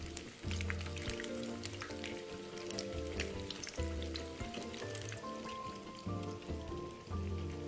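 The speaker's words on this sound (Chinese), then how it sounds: "初下锅不要搅动，待豆腐油炸定型变轻后，再将豆腐上下翻个面" Homemade tofu cubes deep frying in plenty of hot oil, a dense continuous crackle and sizzle like steady rain, with occasional utensil scrapes, no one speaking.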